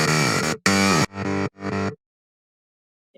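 Unprocessed mid bass synth in an FL Studio dance track: four bright, harmonically rich sustained notes in quick succession, loud and dry, followed by silence before another note begins.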